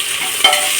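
Onions fry in a pan, giving a brief, steady close sizzle with one small stir-like bump.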